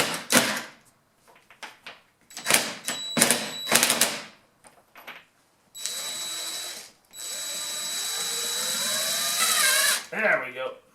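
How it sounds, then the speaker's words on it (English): A drill drives timber lock ledger screws into wood in short, loud bursts, followed by a longer sustained run that slows and strains near the end, close up with brief pauses between. "And when you buy these timber lock or ledger lock screws, they give you a tip with it."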